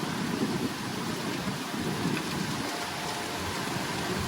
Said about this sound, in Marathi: पाऊस सुरू झालाय जोरदार